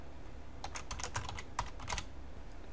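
Keys clatter on a computer keyboard as a title is typed, a quick irregular run of close, light clicks over a low steady hum, with no talking.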